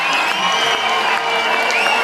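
A stadium crowd roars and cheers without a break as a try is scored at a France v Wales women's rugby World Cup match at Marcoussis. The loud, dense cheering fills the space throughout.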